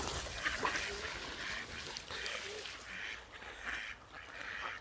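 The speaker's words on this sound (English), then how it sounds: "Back to feeding the ducks" Ducks quack repeatedly in a noisy outdoor setting by a river, their calls overlapping in bursts against a constant background hiss.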